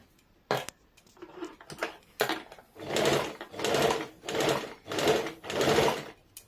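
A sewing machine stitches a half-inch folded palazzo hem in short, loud running bursts separated by pauses, with a few lighter clicks at the start and no talking.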